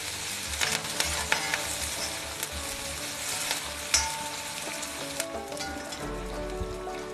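A bunch of curry leaves frying in hot oil, giving a dense, close crackling sizzle with sharp spitting pops scattered throughout and a low rumble near the end, no voices.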